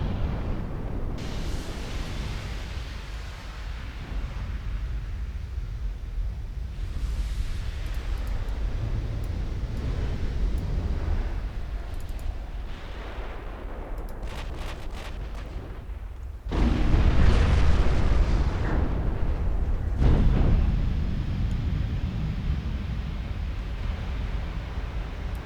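Heavy 14-inch naval guns fire in a naval battle in the game Ultimate Admiral: Dreadnoughts, producing loud booming blasts over a constant roar, with a sharper, louder salvo near the end.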